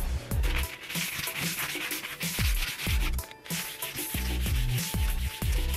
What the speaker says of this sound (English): I'm going to take some higher grit sandpaper and actually go along the length of the strut bar again